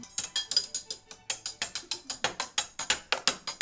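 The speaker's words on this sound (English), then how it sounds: "putting the sticky tape on triangles is gonna make it sound, well, like this" Sticky tape pressed onto percussion triangles damps them, giving a fast run of about twenty short, dry metallic ticks with almost no ring, steady and close with no voices.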